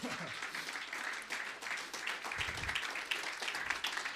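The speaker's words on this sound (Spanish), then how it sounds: "Un aplauso cerrado, amados." Congregation applauding during a church sermon, a dense, steady wash of many hands clapping at moderate distance, sustained throughout with a faint voice or two underneath.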